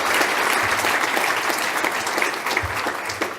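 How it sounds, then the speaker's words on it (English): Loud, dense applause fills a conference hall during a keynote address, steady clapping from a large audience that carries on throughout and fades slightly toward the end. "Let's give them a round of applause."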